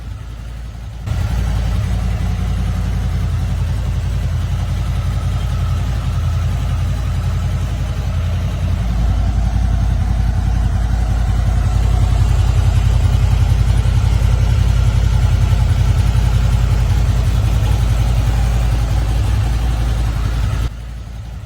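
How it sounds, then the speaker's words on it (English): A motorcycle engine idles steadily and close, its raspy exhaust growing a little louder midway and holding a constant throb before cutting off. "Have that nice raspy sound to the exhaust note."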